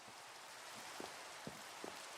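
Rain falls in a video game, a faint steady hiss of dense drops with a few soft louder patters scattered through, no talk.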